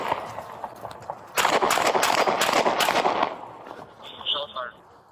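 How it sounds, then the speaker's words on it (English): Several gunshots from a police officer firing at a running suspect near a drainage ditch crack out in a quick irregular burst amid outdoor noise and scuffling, with a voice briefly heard afterward. "The officer drew his gun and fired several rounds at the suspect"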